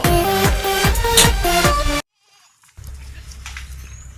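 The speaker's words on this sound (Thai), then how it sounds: "วันนี้พามาชมน้องแพะกันนะคะ น้องกินหญ้าเพิ่งมาค่ะ กำลังจะกลับคอกกันนะคะ" Goats returning to their pen after grazing on grass make loud, close bleats and shuffling movement, then a brief silence and quieter rustling and distant farm sounds.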